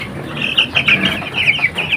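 Chickens cluck repeatedly in a backyard coop, a steady run of close, overlapping clucks and squawks with no talking.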